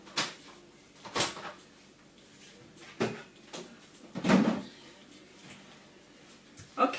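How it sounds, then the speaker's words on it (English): Several separate clunks and clicks come from an oven door being opened in a home kitchen while a roast dinner is cooked at 200 degrees. The knocks are spaced apart with quiet gaps between them. "I'm just going to open the door as well."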